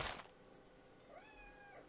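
A cat gives a short, faint meow with a rising then falling pitch, heard alone over quiet background after a brief noise at the start.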